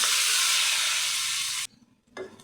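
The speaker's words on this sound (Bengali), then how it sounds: "আমার পেঁয়াজগুলি ভাজা হয়ে গেছে।" Chopped onions sizzle loudly in a hot pan for an egg curry, a steady dense frying hiss that cuts off abruptly, leaving near-quiet before a short burst of sizzling returns.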